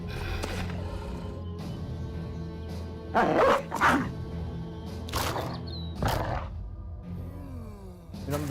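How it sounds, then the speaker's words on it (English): Hounds released in the Battle Brothers video game bark and growl in several sharp, loud bursts spaced a second or two apart, layered over a steady game background with no speech. "Release the hounds"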